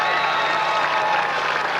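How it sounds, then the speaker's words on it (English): A large crowd cheers and applauds in a steady roar for 37-year-old veteran rower Brian Peeker of London, Ontario, as he takes a silver medal, the broad noise of voices and clapping holding level throughout. "Great cheer for the veteran Peeker"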